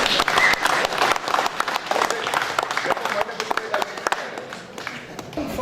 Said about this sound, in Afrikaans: 'n moerse aan die klap vir ons